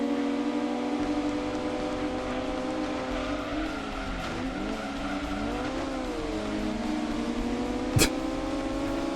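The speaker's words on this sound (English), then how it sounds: "The high revving S2000 engine" A high-revving Honda S2000 VTEC engine holds a steady tone, sweeping up and down through the middle, with a sharp loud crack near the end.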